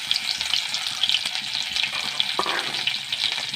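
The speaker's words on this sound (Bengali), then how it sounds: "এবার এই রসুনটাকে আমি তেলের মধ্যে দিয়ে দেবো।" Crushed garlic fries in hot oil in a pan, a steady soft sizzle with faint stirring scrapes throughout, no voices.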